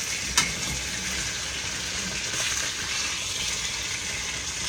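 Smothered fried chicken sizzles steadily in a frying pan with a little oil, a sharp clank of a utensil scraping and flipping the pieces near the start, then continuous close frying hiss.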